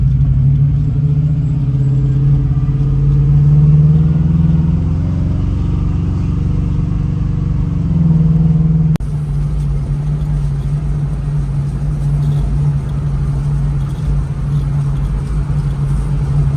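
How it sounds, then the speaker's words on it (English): Steady low engine drone from inside a moving car, a constant rumbling hum with a slight shift in pitch partway through. "I like the way this car sounds."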